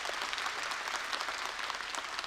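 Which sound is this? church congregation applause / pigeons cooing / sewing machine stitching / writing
church congregation applause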